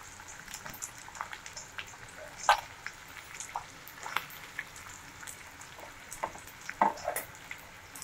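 Finely chopped garlic frying in heated oil crackles and pops in sparse, irregular bursts over a soft background sizzle, close by and fairly quiet.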